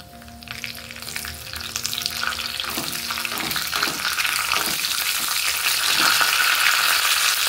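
Mustard seeds, two dried red chillies and curry leaves spitting and crackling in hot oil in a pan for a coconut chutney tempering, a steady close sizzle that thickens and grows louder, with a few light stirring scrapes.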